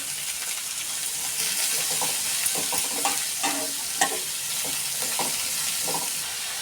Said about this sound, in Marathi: तो कांदा पण टाकते कढईत व्यवस्थित, आणि थोडंसं मिक्स करून घेते